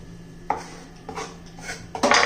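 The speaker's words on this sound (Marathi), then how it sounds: "त्यासाठी मी हा गुळ बारीक चिरून घेतलेला आहे. पहा, पहिला चिरून घ्यायचा एकदम" A knife chopping a block of jaggery finely on a board, four distinct close chops spaced about half a second apart, the last one louder.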